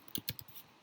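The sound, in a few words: typing on a computer keyboard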